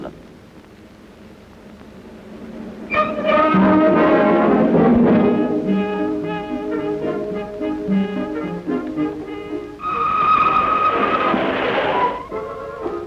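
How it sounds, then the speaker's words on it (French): A Pacific 231 steam locomotive starts off pulling a train with a rising rumble and a stack of sustained whistle-like tones, the sound swelling loud and staying steady, with a second bright hooting burst near the end. "Voici le train qui s'en va, remorqué par la locomotive à l'étude."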